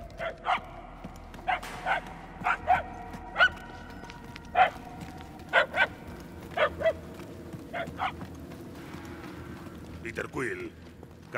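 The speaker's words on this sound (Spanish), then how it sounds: "Los aullidos se vuelven más fuertes." Creatures in Marvel's Guardians of the Galaxy video game give repeated barking, yelping howls, a dozen or so sharp bursts at irregular intervals, loud and close against a low ambient rumble.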